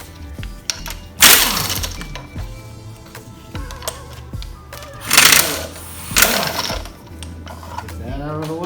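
Ratcheting and metal clanks while removing the serpentine belt tensioner bolts on a Toyota 2JZ engine in a 4x4, with bursts of tool noise and sharp knocks, loud and close.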